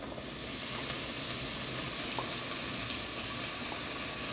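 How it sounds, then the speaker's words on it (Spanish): Onion, tomato and chili frying in a pan give a steady, close sizzle that holds evenly throughout, with a few faint clicks and no voices. "Vamos a ir friendo bien y vamos a colocar la cebolla,"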